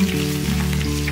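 Pieces of rohu fish fry in hot oil for a Bengali kaliya curry, giving a steady, close sizzle with no talking.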